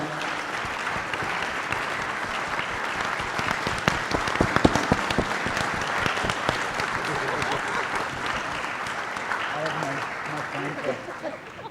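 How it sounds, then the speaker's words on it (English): Sustained applause from a conference audience at a closing plenary session, dense steady clapping filling the room for the whole stretch, fairly loud, with voices mixed faintly into the crowd. "So a big applause."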